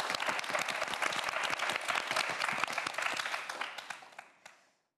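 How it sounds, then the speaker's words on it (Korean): A studio audience at a Korean TV quiz show applauds steadily with dense, even clapping that tapers off and ends near the end. "큰 박수 부탁드립니다."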